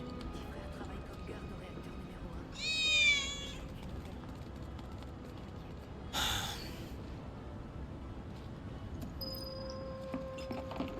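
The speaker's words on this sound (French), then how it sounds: "C'était pas un miaulement de chat à l'instant?" Cat meowing in a video game: one short, high, wavering meow stands out over quiet ambient game sound, followed later by a brief breathy noise burst and faint tones, fairly distant and soft.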